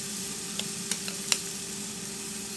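Oil sizzling in a grill pan while tandoori salmon cooks, heard as a steady close hiss with a few small pops and spits.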